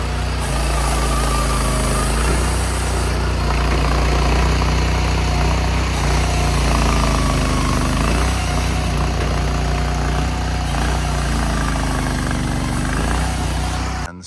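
A small gasoline engine runs steadily and loudly up close, with a constant buzzing drone and slight shifts in pitch.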